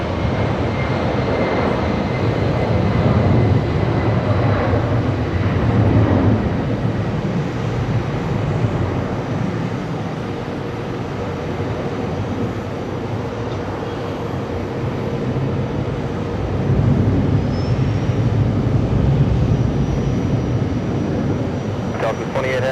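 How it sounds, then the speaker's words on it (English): A Delta Boeing 767-400 at JFK spools up its engines, a steady broad rumble and whine with gentle swells, while a voice talks over it intermittently. "Engines are starting up on that one."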